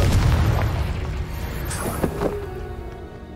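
A Confringo spell explosion in the video game Hogwarts Legacy, a single loud, close boom that starts the clip and then fades into a rumbling decay.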